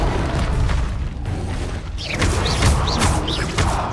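Fire spell cast in the Hogwarts Legacy video game, a dense, loud magical whoosh and rumble with rising whistling swirls and thumping hits, continuous over several seconds.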